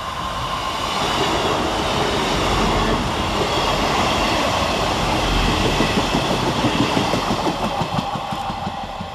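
Two coupled Class 158 diesel trains rumble and idle at a railway station, the engines throbbing steadily under a broad mechanical roar that swells slightly, with no voices.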